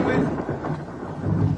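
Rumbling thunder with rain, a low continuous roll swelling and fading over a short stretch, fairly loud and close with wind noise.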